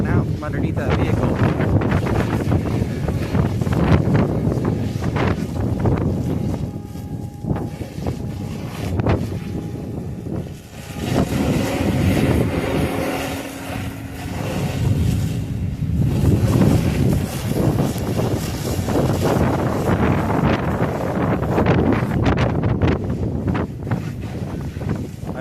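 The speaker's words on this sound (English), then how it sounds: "the fact that it's a super windy day is not helping at all" Strong wind on a very windy day at the coast in Newport, Oregon, buffeting the microphone with a steady heavy rumble and gusts that rise and fall throughout. Voices talk faintly underneath.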